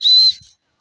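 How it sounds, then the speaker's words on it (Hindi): A person whistles to call peacocks: a single short, loud, pure whistle, near and alone, followed by a brief faint trace of a second. "अब इनको सीटी मार के बुलाए।"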